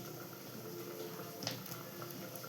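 Fish curry of water and salt boiling under a lid in a pot, a steady soft bubbling simmer with faint patter, continuous and close.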